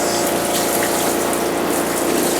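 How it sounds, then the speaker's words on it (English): A Panda portable spin-dryer whirs steadily while water drains out, giving a loud, continuous pump-like rush and gush of liquid that lasts throughout, close up, with no talking. "So that's spinning. It's a little bit loud, and you can see the water draining out."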